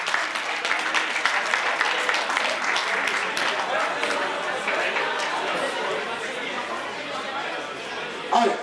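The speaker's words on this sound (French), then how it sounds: "sous vos applaudissements donc," Sustained audience applause at a French sports awards ceremony, steady dense clapping throughout with crowd chatter mixed in, ending in a short louder burst.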